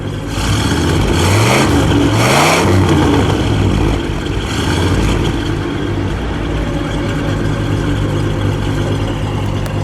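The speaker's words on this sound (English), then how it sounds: "Give me a bit of a rev." A 1953 Buick Skylark engine revs up loudly a couple of times, then settles back into a steady, rumbling idle close by.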